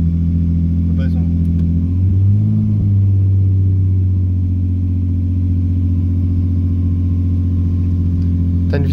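A BMW 328 engine stuck at high revs, droning loudly and steadily close by with a brief surge near the start, while people talk over it.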